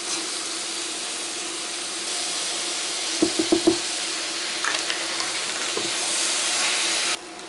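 Onion, chili and tomato sauce cook in a pan with a steady broad hiss and sizzle, and a few brief knocks of a utensil partway through.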